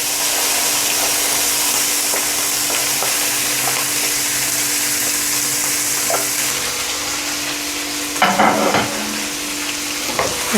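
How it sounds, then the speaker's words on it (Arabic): Lamb kidneys and heart sizzle loudly in a hot pan with a dense, continuous frying hiss, and near the end a brief clattering scrape comes from stirring. "ننزل بقى بالكلاوي والقلب الاول"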